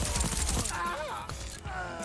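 Rapid gunfire bursts in the video game Deathloop, loud and dense at first, then fading into reloading clatter and game effects, with speech mixed in.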